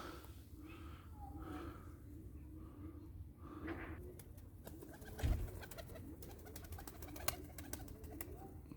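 A runaway pigeon, a blue pied bird, coos in low soft murmurs close by, with quiet breathy snorts and faint background rustling.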